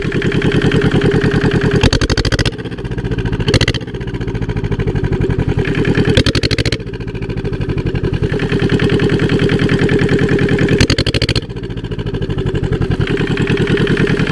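Lister Petter diesel engine cranking and then running with a loud, steady, rapid thumping beat close by, its rhythm briefly dipping and changing a few times.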